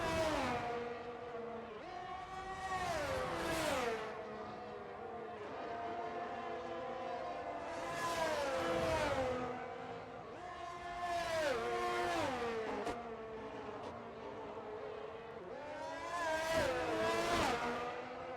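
F1 race cars on the final lap of the Miami Grand Prix in a video game, with high-pitched engines repeatedly rising through the gears and dropping as shifts occur, loud and near, in several distinct acceleration passes.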